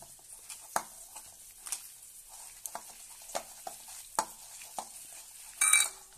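Grated ripe pumpkin being mixed by hand or spoon with gram flour into a thick fritter batter, giving soft wet squelches and scattered clicks at an irregular pace, close and quiet, with a brief brighter clatter near the end.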